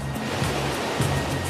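Storm-driven ocean surf in the Gulf during a strengthening hurricane, with waves over six metres high, makes a steady, dense roar of crashing water and wind without a break.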